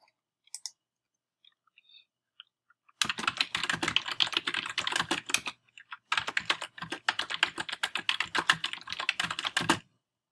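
Steady typing on a computer keyboard while drafting an essay, close and brisk keystrokes in dense bursts with a short pause midway, no talking.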